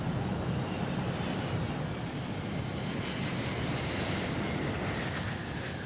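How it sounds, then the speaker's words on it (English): Antonov An-225 cargo aircraft cruising at around 800 km/h, a steady dense engine roar and airflow rush heard from inside the cabin, unchanging and without voices. "We are flying at 800 kilometers per hour."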